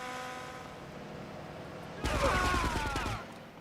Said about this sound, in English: Alright, I'm gonna throw these grenades in there.